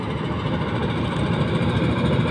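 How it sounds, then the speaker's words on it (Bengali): A trawler boat engine drones steadily across a wide river, the Jamuna, a continuous low rumbling hum with no talking. "অনেক দূর দিয়ে ট্রলার যাচ্ছে।"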